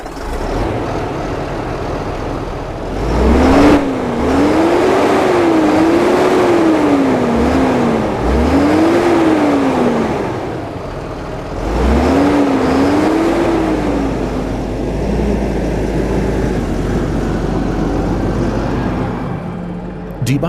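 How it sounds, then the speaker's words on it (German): Heavy engines of Fendt tractors hauling dump trailers full of soil drone and rise in pitch as they pass close by, rumbling loudly, then fade and return with a second pass. "Die beiden Traktoren transportieren heute mehrere Tonnen überschüssiges Erdreich an anliegende Landwirte ab."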